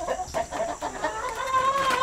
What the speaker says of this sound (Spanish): Este es el gallo de estas y el, otro gallo.